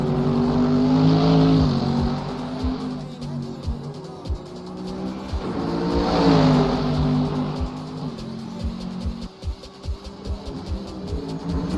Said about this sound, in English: We'll continue to watch the cars go around.